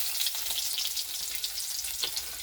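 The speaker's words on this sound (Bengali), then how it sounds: "এবার এই তেলের মধ্যেই একটুখানি কালো জিরে দিয়ে দিলাম, আর দিয়ে দেবো কয়েকটা রসুন কুচিয়ে" A pinch of black cumin and chopped garlic frying in hot oil left over from frying fish, giving a close, steady crackling sizzle with a few sharper pops and no voices.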